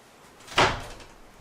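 Hidden secret door swinging shut, a single short thud with a brief rattling tail, moderately loud against quiet room tone.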